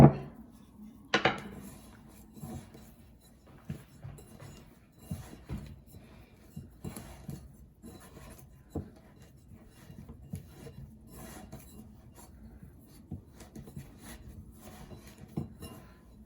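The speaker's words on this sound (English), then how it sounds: "I'm going to switch here" Flour and salt dough clay being worked by hand in a bowl, giving soft continuous rubbing and squishing with occasional knocks against the bowl, close and fairly quiet, with no talking.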